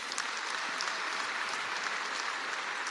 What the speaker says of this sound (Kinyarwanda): Amashyi menshi kwa Yesu